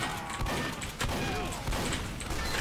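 Rapid Team Fortress 2 gunfire on the Dustbowl map rattles almost without pause, a dense close-up clatter of shots and impacts with a voice faintly mixed in.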